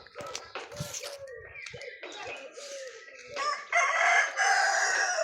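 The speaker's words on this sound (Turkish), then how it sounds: "Burada xoruz." A rooster crows loudly and close by, long strained calls repeating across several seconds, with clucking and some rustling around it.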